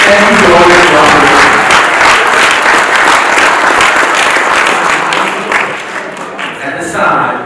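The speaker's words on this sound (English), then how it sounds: "Parents, everybody, give yourselves a round of applause." A youth wrestling banquet audience of parents and families claps in loud, sustained applause that gradually thins and tapers off toward the end.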